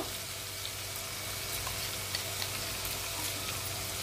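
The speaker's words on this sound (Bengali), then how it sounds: "এবার আমি এতে 2 টেবিল স্পুন ফেটানো টক দই দেব" Spice masala for a pomfret fish curry sizzles steadily in a pan as whisked sour yogurt goes in, a continuous faint hiss and crackle at close range with no talking.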